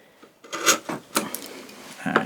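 Wood chisel held bevel down shaving out wood, a few short scraping strokes, close and fairly crisp, with brief pauses between cuts.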